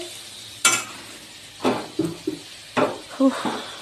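Green chillies dropped into curry frying in a pan at home, a steady soft sizzle punctuated by several close stirring and scraping clatters of a spoon against the pan.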